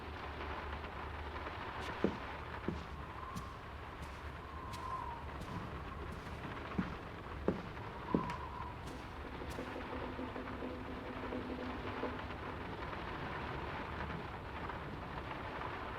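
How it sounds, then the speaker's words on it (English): Steady heavy rain in the video game Draugen pours down in a constant wash, with a few sharp cracks and low rumbles of thunder scattered through it. "And the rain's not abating. It's really coming down."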